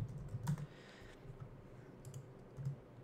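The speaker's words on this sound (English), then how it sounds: "you can type in new photos" Soft keystrokes on a Mac keyboard while a folder name is typed, a few quiet clicks scattered over a low, faint background.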